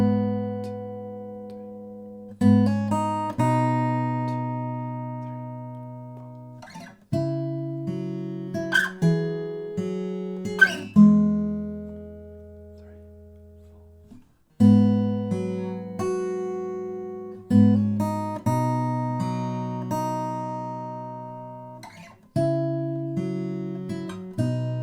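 Acoustic guitar plays the picked pre-chorus of a song without a capo, clean plucked notes and chord shapes ringing out in phrases with short pauses, ending on an F shape, with no one talking over it.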